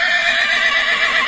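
A jet-black colt for sale at a horse market neighs in one sustained whinny, close and loud, with no other sounds or voices over it.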